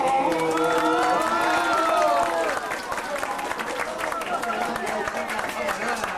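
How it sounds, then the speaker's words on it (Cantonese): Audience applause and cheering at a grandfather's birthday celebration, a dense continuous wash of clapping and crowd noise with voices mixed in throughout. "能夠有咁多掌聲，我好開心"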